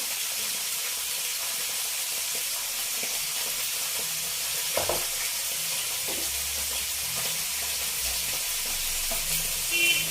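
Onions frying with ginger garlic paste in a pan for kurma, a steady soft sizzle with a few stirring clinks and scrapes, close and quiet without speech.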